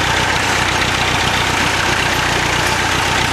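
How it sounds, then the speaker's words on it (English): A two-wheel drive tractor engine chugs loudly and continuously through a muddy plowed field, a steady labouring rumble with a rhythmic knock, close and without any talking. "This two-wheel drive tractor is just trying hard to get through it."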